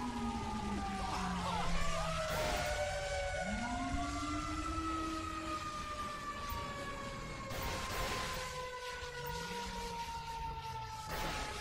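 Emergency vehicles responding to a fire callout in the LSPDFR police game mod wail with several overlapping rising and falling sirens, continuous and moderately loud throughout.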